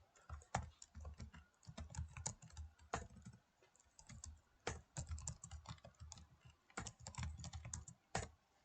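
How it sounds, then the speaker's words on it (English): Rapid, uneven bursts of keystrokes as a name is typed on a computer keyboard, close and crisp with short pauses between runs and no talking. "I'll type the name here."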